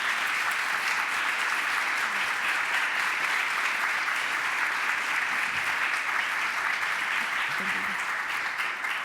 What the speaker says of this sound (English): I want to give a big round of applause to the panel for their time this morning as well